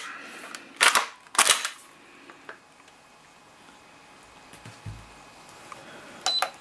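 A hunting shotgun trigger tested with a Lyman trigger gauge gives two sharp, loud snaps close together, then a few faint clicks and handling taps before a final snap.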